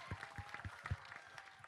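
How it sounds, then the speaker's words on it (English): Applause for Ajay Devgn at a press conference and trailer launch, a short burst of clapping from a modest crowd, fairly faint. "So big round of applause for Ajay"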